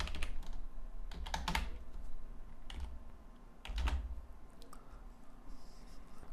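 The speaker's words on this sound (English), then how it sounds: "I type in some text because my div tag would collapse without content" Typing on a computer keyboard in a quiet room, clusters of light key clicks and taps in uneven bursts with short pauses between, close and fairly soft, no talking.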